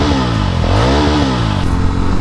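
A Yezdi Roadster motorcycle's 334cc single-cylinder DOHC engine revs loudly up and back down, close by, with a throaty, rising and falling note.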